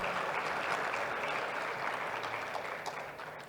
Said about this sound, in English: A round of applause for the Assistant Minister.